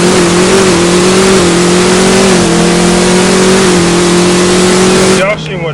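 A Dodge Challenger Hellcat engine held near the rev limiter in first gear at a drag racing event, a loud, steady high-pitched roar that wavers slightly before dropping off abruptly near the end.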